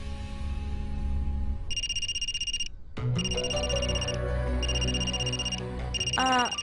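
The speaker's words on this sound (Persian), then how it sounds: "ریتویک موبایلت" A mobile phone ringtone plays in repeated electronic beeping bursts, loud over a background music score and room sound during an indoor drama scene.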